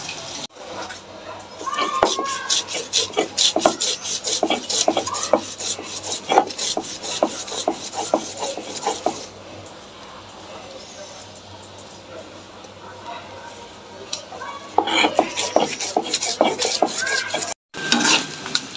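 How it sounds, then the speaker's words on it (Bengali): Mustard seeds are ground on a stone slab with a stone roller, giving a steady rough rubbing and scraping rhythm that runs through most of the clip. It eases off briefly in the middle, and a voice is heard now and then. "এখন এটাকে পাটা পুঁতে পিষতে হবে"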